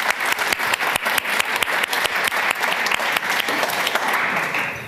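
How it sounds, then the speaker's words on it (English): A conference audience at a microservices panel breaks into warm, dense applause, steady, close clapping from many hands for about five seconds with no talk over it. "just let's welcome us with a warm round of applause"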